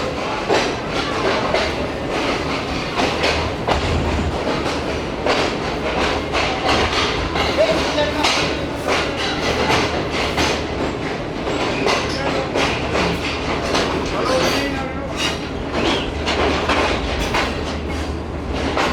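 Shalimar Express passenger train running at speed, a loud continuous roar of wheels on rail with steady clickety-clack rhythm and rushing wind, carrying on for the whole stretch without pause.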